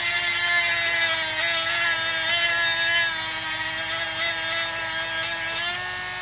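A small rotary grinding blade cuts through a coconut shell with a steady, high-pitched whine and gritty rasp that holds loud and close throughout, with no talking.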